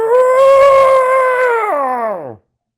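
A human voice imitates a meme dog's growl as a monster's cry, a loud drawn-out howling roar that bends downward and cuts off abruptly near the end.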